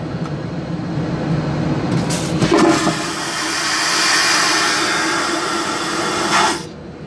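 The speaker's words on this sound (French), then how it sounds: "le bruit de la chasse d'eau était tellement fort que je m'en suis bouché les oreilles" An airplane vacuum toilet flushes loudly after a button press, a sudden sharp whoosh swelling into a sustained rushing roar over the cabin's steady hum, then cutting off abruptly.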